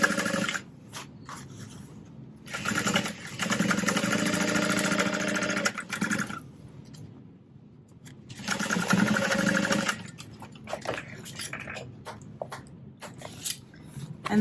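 A sewing machine stitches across a fabric bag's bottom corner, whirring in two steady bursts with quiet pauses and some handling noise between them, close and fairly loud.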